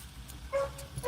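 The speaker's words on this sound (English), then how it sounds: "Y'all don't hear that dog, Jet Bob." A dog gives a couple of short, thin yips or barks at a distance, faint over a steady background hum with no talk.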